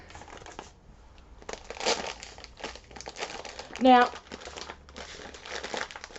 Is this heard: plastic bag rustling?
yes